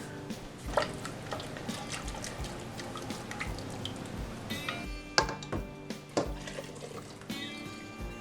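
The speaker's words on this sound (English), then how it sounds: "We're going to add the gravy into the broth." Gravy poured into broth for borscht, with soft liquid trickling and dripping into a pot alongside scattered clinks of utensils in a quiet kitchen.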